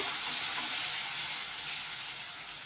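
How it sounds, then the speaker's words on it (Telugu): Dried prawns frying in a pan for a cluster beans curry, giving a dense, even hiss of hot oil that holds steady and close for a couple of seconds with no voices. "ఇప్పుడు ఈ ఎండు రొయ్యలు కూడా యాడ్ చేసుకోండి వీటిని బాగా ఫ్రై చేసుకోండి"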